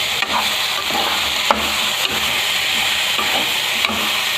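Curry leaves and tomato sautéing in oil in a pan, a steady close sizzle broken by rhythmic spoon scrapes and light knocks about every half second to second.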